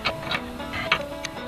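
A wrench ratchets on a bolt of a 1961 Chrysler brake, giving a few quiet, evenly spaced metallic clicks close by.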